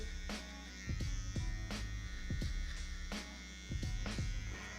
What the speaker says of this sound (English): which is gonna be our next step using the shaver.